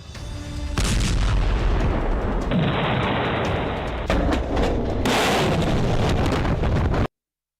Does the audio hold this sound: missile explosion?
yes